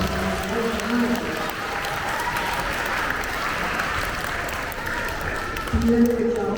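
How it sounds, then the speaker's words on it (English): A school assembly audience of students gives a steady, loud round of applause that fills the whole stretch, dense clapping from a large crowd with no break. "Can you give Laura a huge round of applause?"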